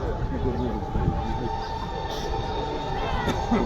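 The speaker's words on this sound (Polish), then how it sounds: "Jadą, słuchajcie, parowozy" Steady rumble of steam locomotives rolling on rails during a steam locomotive parade, with faint metallic squeals and a crowd murmuring in the background.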